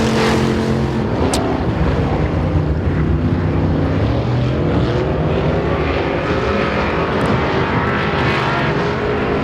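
Enduro race cars roar around the Super Bee Speedway oval in Chatham during a heat race, a dense, continuous engine din with pack noise loud and steady throughout, no voices.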